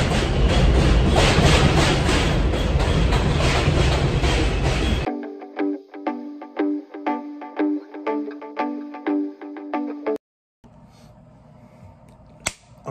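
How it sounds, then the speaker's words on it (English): A New York City 5 subway train rumbles loudly and roars for the first few seconds. Then a rhythmic series of clacking, tonal beats follows, a brief silence, and a quieter rolling stretch with a sharp click near the end. "I'm about to get on the train right now."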